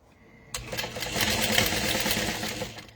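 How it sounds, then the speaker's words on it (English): Silence, then a sewing machine starts up and runs a seam through vinyl for a wallet at a 3.5 stitch length, a close, rapid, even whir that fades slightly near the end. "And you just keep sewing with the curve."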